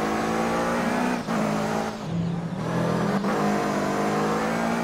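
Toyota Supra racing in the video game Midnight Racing Tokyo, its engine droning steadily and loudly with brief dips and swells as it revs and shifts, heard alone with no talk.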